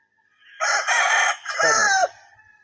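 A game rooster, a young stag, crows once loudly and close, a rising two-part call held for about a second and a half with no other sound around it.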